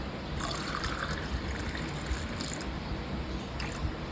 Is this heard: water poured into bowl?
yes